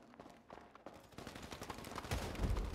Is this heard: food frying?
no